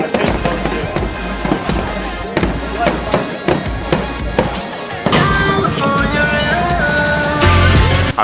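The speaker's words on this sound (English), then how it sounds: "Look at the fireworks." Fireworks exploding in a rapid series of loud cracks and booms, bursts overlapping with crackling, a denser barrage toward the end, with someone talking over them.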